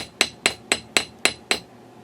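A ball peen hammer patterns a metal jewelry bail in six sharp, evenly spaced metallic strikes, each ringing briefly before the next, close and distinct with no talking.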